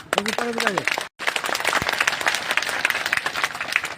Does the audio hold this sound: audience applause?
yes